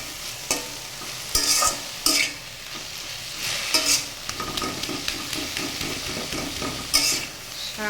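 Jute leaf greens frying in a pan while being stirred, with repeated loud scraping strokes of a utensil over a steady close sizzle, and no talking.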